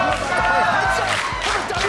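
A crowd at a poker tournament final table cheering and shouting loudly, a dense roar of voices with chanting and rhythmic stomps or claps, close and sustained.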